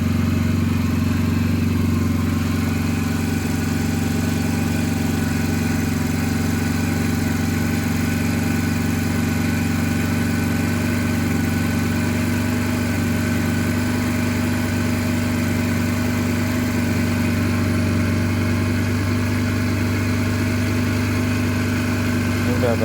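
A Yamaha XT125X motorcycle engine runs steadily at close range, a constant loud idle hum with a firm low drone that holds throughout, while people talk quietly over it.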